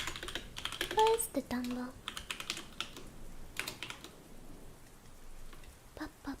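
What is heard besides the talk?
typing on a computer keyboard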